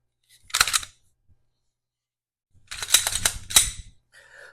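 Ruger RXM pistol, a Glock 19 pattern handgun, being cleared: a sharp metallic clack of the slide, then after a pause a cluster of several quick rattling clicks close up, with a faint click at the end.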